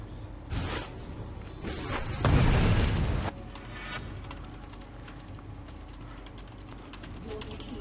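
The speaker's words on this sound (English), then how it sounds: "Your team has destroyed a turret." A turret is destroyed in League of Legends with a deep booming crash and rumbling burst lasting about a second, followed by quieter game effects and ambient sounds.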